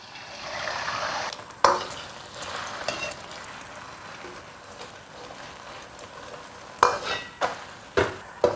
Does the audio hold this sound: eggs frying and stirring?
yes